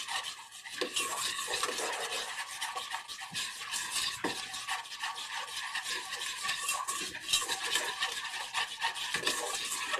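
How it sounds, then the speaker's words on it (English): Quinoa crunch bar mixture being stirred, a continuous close scraping and rubbing sound with steady rhythm, heard alone at moderate level. "I'm going to go ahead and give this a stir before I add in the quinoa"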